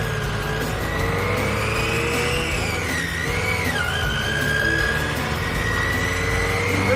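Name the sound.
dune buggy driving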